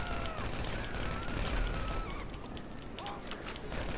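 Gunfire in GTA Online, played in first person with an MP submachine gun, comes as rapid, rather faint bursts of shots layered over a busy game background.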